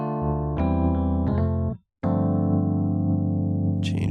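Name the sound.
Rhodes electric piano sound from the Keyscape plugin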